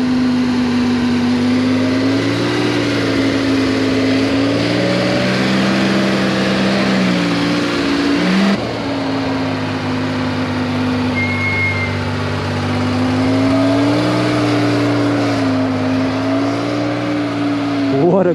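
Sports cars including a Porsche GT3, GT4 and Audi R8 pulling out of a cars and coffee meet, loud engines idling and revving with rising and falling pitch close by, a faint voice underneath.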